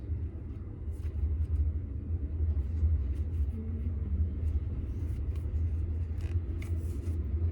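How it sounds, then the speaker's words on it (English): A train passes at a distance, heard as a low, steady rumble that stays fairly quiet and carries faint scattered ticks over it. "Train's actually not that loud, I'm surprised."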